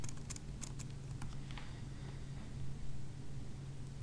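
Light, quick clicks of a computer keyboard as a web address is typed, faint and brief over a steady low hum, with no voices.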